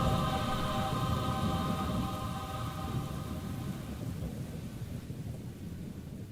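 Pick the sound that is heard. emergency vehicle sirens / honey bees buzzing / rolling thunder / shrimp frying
rolling thunder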